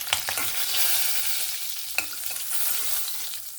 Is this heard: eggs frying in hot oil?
yes